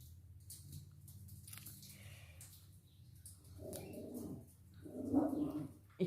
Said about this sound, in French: Mon chien qui aboie.